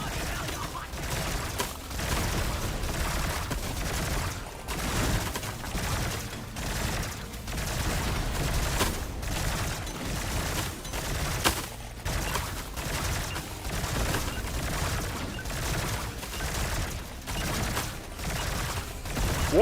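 Rapid video game gunfire crackles almost nonstop in dense, loud bursts, with mechanical clatter and a voice talking underneath.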